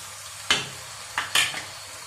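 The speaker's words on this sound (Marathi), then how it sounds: "छान असं पुन्हा परतून घेऊया।" A spoon scrapes and stirs chole masala mixture in a pan, giving a few sharp clinks and scrapes against the metal over a faint, steady sizzle.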